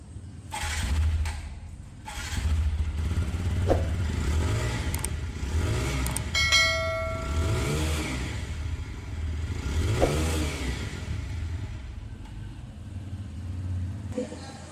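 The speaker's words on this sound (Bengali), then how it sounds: "এক্সস্ট নোটটা একবার শুনিয়ে দিই" A TVS Apache RTR 160 4V motorcycle idles at close range and its exhaust rises in three or four quick throttle blips. Faint talk may sit in the background.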